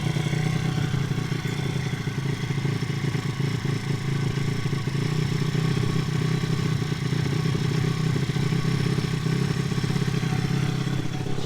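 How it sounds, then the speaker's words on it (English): A 2014 SSR 160TX dirt bike with a stock carburetor and a small leak idles high, its engine holding a steady, close, continuous rattling drone with no change in pitch and no talking. "She wants to idle so high."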